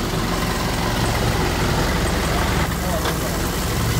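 A tractor engine idles at low speed with a steady, continuous low rumble, close and even throughout, while a clutch is being serviced and flushed.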